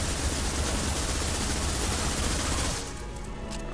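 SMG fire in Mass Effect 2, a dense, loud, continuous burst of rapid gunfire that dies down near the end, with no talking over it.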